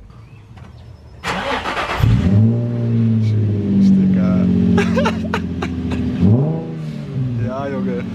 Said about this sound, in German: Sound aus der Straightpipe?